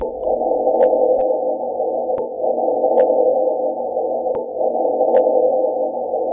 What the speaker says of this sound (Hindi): मार्स की हवा और वहाँ की सेस्मिक वाइब्रेशन की मदद से रिकॉर्ड किया गया है